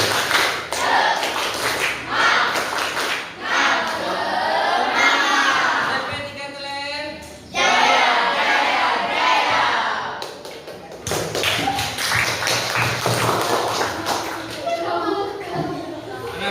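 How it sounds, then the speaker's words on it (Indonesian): A classroom of students does a rhythmic spirit clap, the sharp claps running in patterned bursts through much of the stretch, fairly close and loud, with voices chanting and talking over and between them. "Tepuk semangat"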